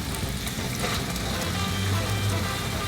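Salmon patties frying in a pan give off a steady, close hiss of sizzling with faint crackle throughout, with no voices over it.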